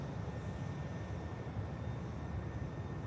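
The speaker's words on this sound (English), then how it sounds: "Just hear that EasyJet spooling the engines up." An EasyJet jet's engines spool up in the engine run-up bay at Manchester Airport; a steady, broad roar with a faint high whine, continuous and moderately distant, with no talking.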